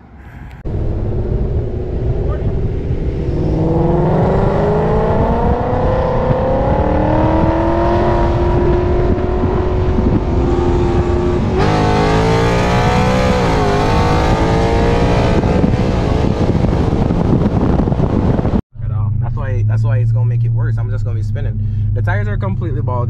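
A 500 hp Ford Mustang GT and a 700 hp BMW X3M drag race, with loud engines revving and rising in pitch through gear changes under wind rush, close to the car, ending abruptly with a brief different engine tone.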